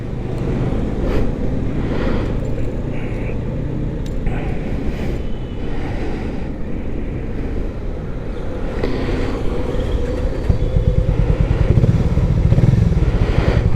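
A Harley-Davidson X440 motorcycle engine runs steadily with a low, even throb, loud and close throughout, rising slightly toward the end amid some road clatter.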